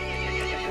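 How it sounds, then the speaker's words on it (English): A horse in the video game Resident Evil 8 lets out a short, loud, harmonic neigh, close and alone, lasting under a second. "The horse grew angry and summoned the other monsters."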